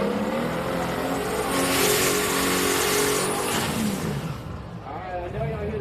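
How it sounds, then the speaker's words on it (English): Drag racing car engine at a street night at Houston Raceway Park, a loud, sustained roar building and easing over several seconds with crowd and announcer speech mixed underneath. "I know y'all hear that little boost action here"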